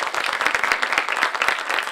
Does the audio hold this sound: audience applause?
yes